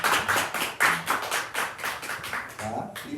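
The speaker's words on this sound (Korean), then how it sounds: "박수 한번." A church congregation at a Sunday morning service claps for a youth department graduate, a short run of loud, fairly rhythmic hand claps close by.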